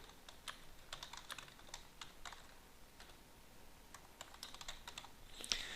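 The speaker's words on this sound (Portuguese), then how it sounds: "a primeira coisa que ele vai fazer é digitar o nome dele" Typing on a computer keyboard, entering a name into a Google Forms field: steady, quiet runs of crisp key clicks with brief pauses, close and alone with no talk.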